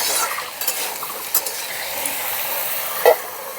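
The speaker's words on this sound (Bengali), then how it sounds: "আলুটা ভাজা হোক" Potatoes fry in a pan for Bengali aloo posto, a soft steady sizzle with a few brief utensil clinks and stirring sounds, heard close and fairly quiet with no voices.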